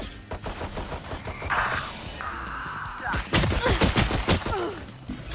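Pistol fire in the console version of the shooter game Valorant: a run of sharp shots crackles over busy game noise, with a steady tone and rattling impacts mixed in. Shots come in quick bursts, loud and close.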